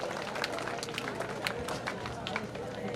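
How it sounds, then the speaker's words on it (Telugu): An audience at a school alumni meet claps to thank a donor, a dense, steady patter of many hands that fills the room at moderate volume for the whole stretch. "ఈ సందర్భంగా ఆయనకు అందరం చప్పట్లతో ధన్యవాదాలు తెలియజేద్దాం"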